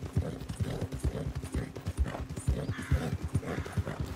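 Horse hooves in the video game Red Dead Redemption 2, a steady clip-clop of repeated hoof beats at a walking-to-trotting pace, close and clear over outdoor ambience, with no talking.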